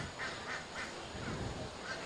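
Ducks quacking faintly at intervals during a working sheepdog demonstration, a few short calls rising over outdoor background noise, with no talk.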